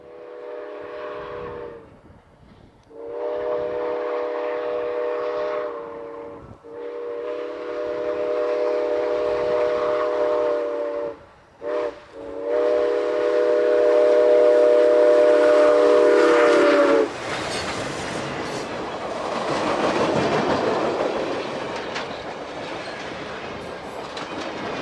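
U.S. Sugar steam locomotive 148 sounds repeated long whistle blasts in several bursts, then rolls past close by with heavy chuffing, clanking and rail rumble that fades as it moves away.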